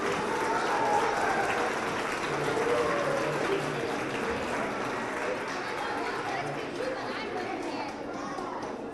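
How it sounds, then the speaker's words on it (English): Applause from an audience of children and adults at a DARE graduation ceremony, a steady roar of clapping mixed with crowd chatter that carries on evenly throughout. "let's give one more final round of applause for all our DARE graduates."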